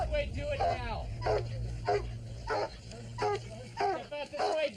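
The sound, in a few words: police dog barking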